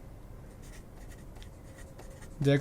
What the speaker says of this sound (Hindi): एज ऑफ लिख लेते हैं यहाँ पे, एज ऑफ जैकब